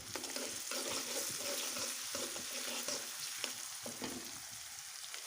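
Ginger and garlic frying in a pan for a Bengali potato and river fish dish, a steady loud sizzle with repeated scraping stirs throughout, no talking.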